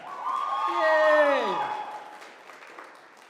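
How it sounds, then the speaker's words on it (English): A livestream audience at a live show in Calgary claps and cheers, with scattered whoops under a speaker's bright, rising exclamation that dominates the middle before the crowd noise fades. "Everybody clap at Caitlin again"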